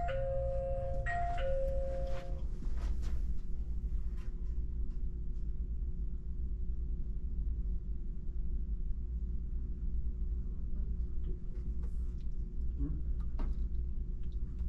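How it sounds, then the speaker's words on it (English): A two-tone doorbell chimes twice at the start of a city hall and police department lobby, followed by a long steady low hum of the building with faint ticks and soft movement. "I didn't want to come in without ringing the doorbell."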